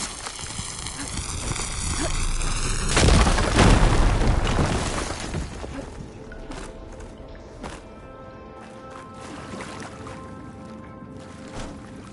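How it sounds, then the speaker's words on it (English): A loud blast in the Horizon Forbidden West video game as a fire beam is blown up, with a rumbling burst that swells and then fades into quieter game ambience and scattered clicks. "Should be able to blow up that fire beam."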